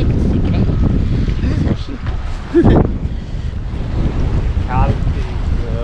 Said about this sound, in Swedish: Blåsigt idag.